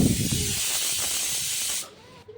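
A pressure cooker boiling dal gives off a loud, steady hiss of escaping steam. The hiss cuts off sharply after about two seconds, leaving a quiet kitchen.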